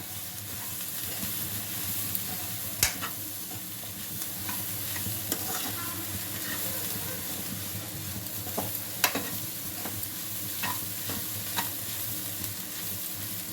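Egg and carrot fry sizzling steadily in a pan while a spatula stirs and scrapes, with occasional sharp metallic clicks against the pan, close and unaccompanied by talk.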